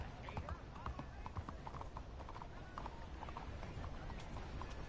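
A horse walking in Red Dead Redemption 2, with soft, steady hoof clip-clops under continuous talking and game background noise.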